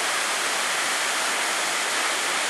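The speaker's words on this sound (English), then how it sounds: "Pretty impressive falls." A waterfall at Port Welshpool, Victoria, Australia, heard as a steady, dense rush of falling water that fills the whole clip at an even loudness, with no voices.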